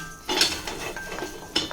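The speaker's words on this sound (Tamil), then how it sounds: "இப்போ இதுக்கு கடுகு போட்டு மூடி வைக்கலாம்." Metal clinks and taps against a pan as mustard seeds are added, a few sharp knocks including a lid being set down, fairly quiet with no voices.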